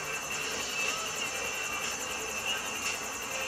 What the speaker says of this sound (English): you just need to bail out of the helicopter